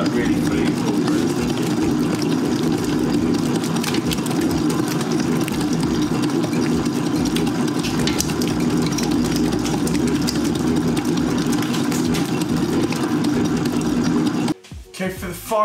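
Stand mixer kneading ciabatta dough with extra virgin olive oil at high speed, a loud, steady motor whir with rhythmic churning, running nonstop before cutting off abruptly near the end.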